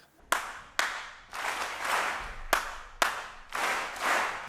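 Hands clap in short separate bursts and longer stretches of applause for clever students, several people clapping together, fairly close and with no talking.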